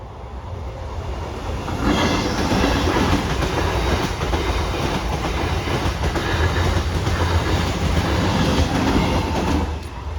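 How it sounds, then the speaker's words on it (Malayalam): A train rolls past on rails, loud and close, with rhythmic clickety-clack of wheels over joints building and sustaining for several seconds before easing slightly at the end; no voices. "This train is coming."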